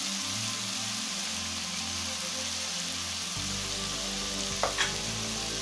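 A turnip curry seasoned with salan masala fries and is stirred in a pan, giving a dense, even sizzle with low scraping that thickens partway through and ends with a couple of light taps.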